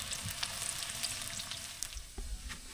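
Bananas frying in a pan give a steady close sizzle with small crackling pops and occasional louder spits. No one speaks.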